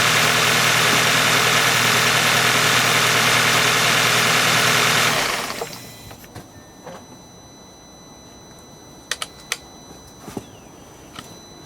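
A 2009 Audi A4 with a failing engine idles loudly with a knocking rattle for about five seconds, then shuts off, leaving near-silence broken by a few faint ticks and clicks.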